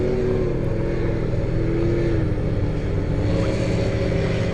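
Racing powerboats at the Great Lakes Grand Prix run down the straightaway, a sustained loud engine drone with a rising whine threading through it, heard across open water with no voices.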